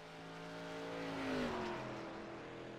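A race car engine in the iRacing sim racing game drones steadily, rising in pitch and swelling as it passes close by, then easing away during a yellow-flag period.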